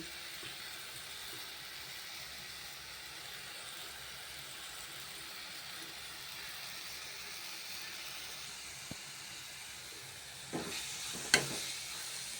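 A salted raw mango and dal mixture sautés in a pan with a faint, steady sizzle. A few light scrapes and clinks of the stirring spoon come through near the end.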